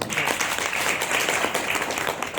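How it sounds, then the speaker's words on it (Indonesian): An audience at a training event in a Bali hotel applauds, a dense wash of many hands clapping at steady loudness for a few seconds. "Tepuk tangan buat general."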